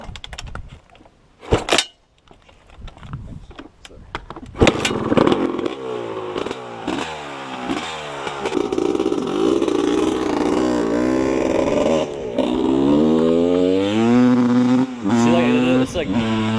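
A motorcycle bought used, ridden and revved up through the gears into its power band: loud, close engine roar with rising and falling pitch sweeps from repeated acceleration, alongside wind and road rumble.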